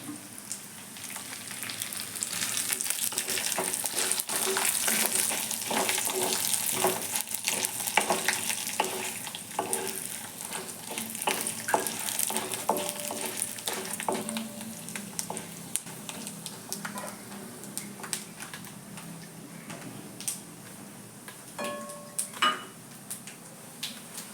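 Curry leaves fry in a pan for a tamarind rice dish, giving a steady, close crackling sizzle that runs throughout, broken by scattered clicks and scrapes of stirring.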